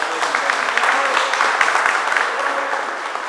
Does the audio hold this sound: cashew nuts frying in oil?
no